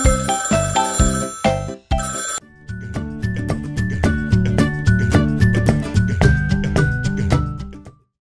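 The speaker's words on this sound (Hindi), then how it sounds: "घर में जब भी आता फोन, घंटी मधुर बजाता फोन।" A telephone rings with a melodious, tinkling bell ringtone in a children's rhyme, a bright repeating jingle that starts in short bursts, pauses briefly, then continues steadily with musical accompaniment, loud and close.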